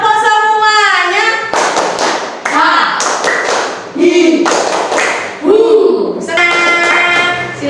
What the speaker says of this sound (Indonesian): Tepuk semuanya